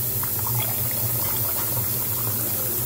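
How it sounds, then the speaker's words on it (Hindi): Water pours steadily into a bowl of soaked lentils in a home kitchen, a continuous close bubbling, splashing wash with no voices. "पानी डाल दिया"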